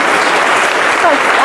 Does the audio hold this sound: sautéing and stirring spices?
no